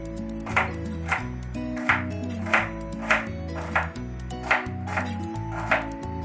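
Knife chopping an ingredient for chutney on a cutting board, about ten steady evenly spaced thuds, close and clear over a continuous background of music.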